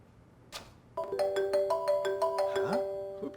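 A phone rings with an incoming call backstage in a theater. A single click comes first, then a loud, melodic electronic ringtone repeats its chiming notes steadily until the end.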